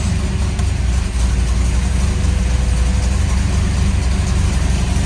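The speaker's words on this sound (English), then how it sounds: "Idles at about 1100." A nitrous-fed Chevy S10 drag truck sits idling near and loud, with a steady, lumpy low rumble that holds even throughout, and nobody talks over it.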